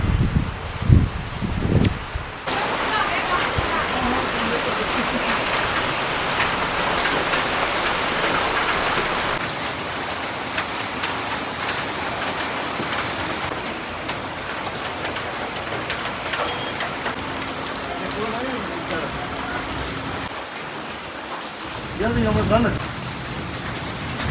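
A loud, constant downpour of heavy rain in the mountains drums on surfaces, with faint voices heard briefly at the start and the end.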